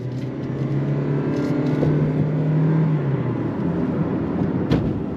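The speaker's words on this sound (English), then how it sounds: "Let's go on throttle. On throttle, here we go." A 2025 Toyota Prius Nightshade hybrid pulls away under throttle, a low, smooth engine hum rising gently in pitch over steady cabin road noise, heard from inside; no talking.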